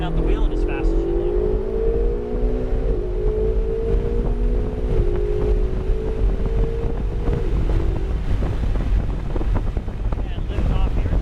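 Ferrari 488 accelerating on a race track, a loud engine note rising in pitch then dropping and climbing again through gear changes, heavy wind buffeting throughout, an instructor talking over it.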